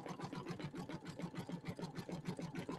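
A sewing machine runs a satin stitch in a steady, rapid, evenly pulsing rhythm, close and fairly quiet, with no voices over it.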